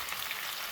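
Onions frying in a pan for coconut chicken curry, giving a brief, faint, even hiss of sizzling with no other sounds.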